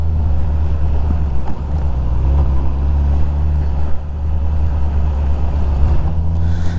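Town traffic in Uzhur, Siberia, with cars and trucks rumbling by at street level, a steady low engine drone and road noise throughout, loud and continuous with no talking.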